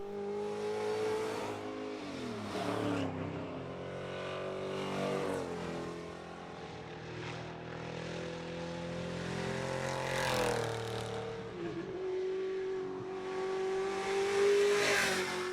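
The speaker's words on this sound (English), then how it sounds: "the spectators enjoy the sound of the cars breaking the silence of the Mexican countryside" Classic race cars in the Carrera Panamericana road race in the Mexican countryside pass one after another, their engines revving and rising and falling in pitch as they approach and fade, with no talk.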